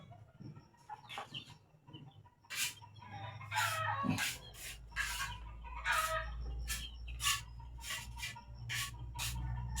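A neighbour's rooster, one of many gamecocks kept for cockfighting, crows repeatedly alongside clucking chickens, moderately near, amid a low background hum.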